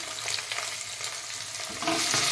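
Fried onion and tomato are stirred in a hot pan, producing a continuous close sizzle and scraping that grows louder near the end.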